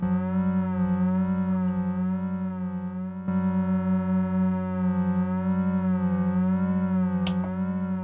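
A steady FM synthesizer tone with a slowly wobbling pitch from slow LFO modulation, rich in harmonics, holding continuously with a brief click partway through.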